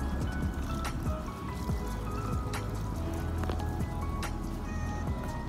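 Dirty water draining at a hotel swimming pool, a continuous trickling and dripping wash with wet squishy gurgles, fairly loud and close, with no talking.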